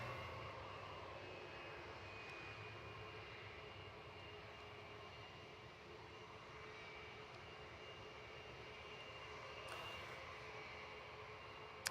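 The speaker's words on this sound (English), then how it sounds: "A321 just taxiing here." Jetstar Airbus A321neo taxiing at Gold Coast Airport, a steady, moderately distant jet engine hum and whine holding level throughout with no voices over it.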